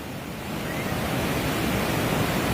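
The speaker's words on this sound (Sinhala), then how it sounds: "දිගියට එන වතුර පාරක් එනවා බං" A surge of water rushing in toward a bridge, heard as a loud, steady broadband roar like heavy surf, close and continuous throughout with no voices.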